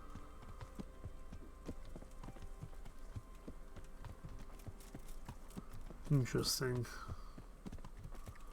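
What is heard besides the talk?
horse hooves clip-clopping in Kingdom Come: Deliverance video game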